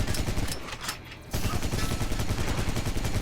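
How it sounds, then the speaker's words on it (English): Rapid, continuous bursts of laser shots from an action video game played on a Powkiddy X18 handheld, dense and steady with a short lull partway through. "Something shooting lasers over there."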